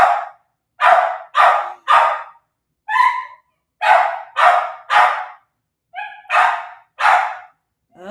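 A backyard dog that has just chased a rabbit barks loudly and close in sharp bursts of two and three, separated by short silent pauses.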